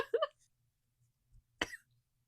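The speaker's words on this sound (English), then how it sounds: "I'm trying to cough." A person coughs: a short burst of harsh, breathy coughs, then a pause and a second hard single cough, close and fairly loud, with no talk in between.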